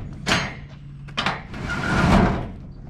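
A roll-up door on a storage unit is cranked open, with a few sharp metallic clanks and then a longer rattling roll as it lifts.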